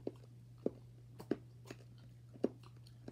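Someone chews Jolly Rancher hard candy in a few sharp, close crunches spaced irregularly, quiet apart from a low steady hum.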